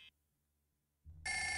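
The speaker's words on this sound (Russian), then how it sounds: "нам, наверное, опять этот дед звонит" A phone rings in the horror video game Five Nights with Timokha 2, a short beep at the start, then quiet, then a low rumble swelling into a loud bright ring at the end.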